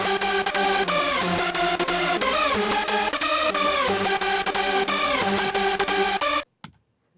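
A hardcore lead synth group played dry with no insert effects, loud and continuous with a driving rhythmic pattern of stacked harmonic tones, stopping abruptly near the end.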